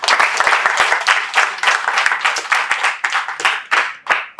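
Audience applause at a political election rally in Ilala, Dar es Salaam: dense, loud clapping from a crowd, sustained throughout, with individual sharp claps standing out and no talk over it.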